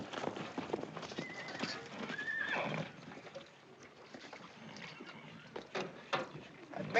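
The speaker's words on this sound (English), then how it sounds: "I need a couple of fresh horses" Horses in a 1940s Western film setting neigh and clip-clop over rough ground, with hooves and whinnies mixed amid scattered voices and outdoor bustle at moderate distance.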